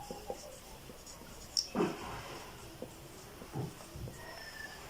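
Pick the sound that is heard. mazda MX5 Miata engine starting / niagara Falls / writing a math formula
writing a math formula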